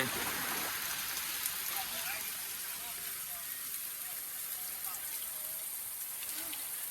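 Heavy rain pours down in a constant dense hiss, steady and close, with occasional faint sounds underneath.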